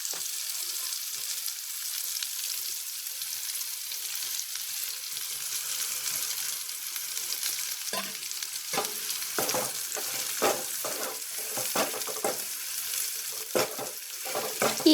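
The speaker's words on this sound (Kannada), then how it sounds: "ಈರುಳ್ಳಿ ಟೊಮೆಟೊ ಎಣ್ಣೆ ಒಳಗೆ ಜಾಸ್ತಿ ಫ್ರೈ ಮಾಡೋದು ಬೇಡ." Onion, tomato and spices fry in hot oil for a Karnataka-style bitter gourd palya, a steady close sizzle throughout, joined in the second half by repeated scraping strokes of a spoon stirring the pan.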